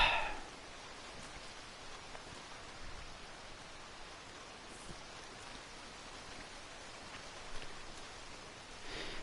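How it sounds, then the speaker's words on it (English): Steady rain in the video game Red Dead Redemption 2, a soft even hiss of falling drops that holds faint and constant throughout with no voices. "I don't know how long it'll be raining for."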